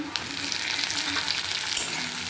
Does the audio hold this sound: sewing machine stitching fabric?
no